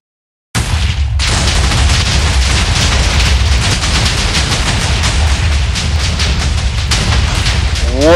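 A Minecraft explosion erupts suddenly into a loud, sustained roaring blast of dense rumbling noise that continues for several seconds without letting up.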